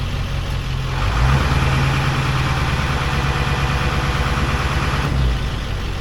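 A 2002 Ford F250 truck engine runs at high idle, a loud, steady, close diesel-like drone with a low throb that stays even throughout, with no voices.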